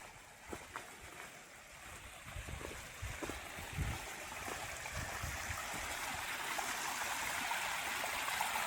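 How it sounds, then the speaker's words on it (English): Water trickles and flows steadily at the source of the Blackwater River, a soft continuous rush that grows slightly fuller over time, with a few faint knocks and no voices. "So here we are, we're at the source of the Blackwater River"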